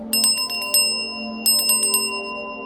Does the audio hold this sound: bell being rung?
yes